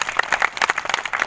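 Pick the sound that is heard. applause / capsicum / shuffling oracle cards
applause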